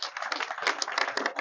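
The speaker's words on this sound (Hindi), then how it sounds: "एक बार जोरदार ताली साहब" Crowd clapping at a political rally for a joint candidate of the BSP and INLO parties, a quick, uneven patter of many hands applauding together, steady and fairly close.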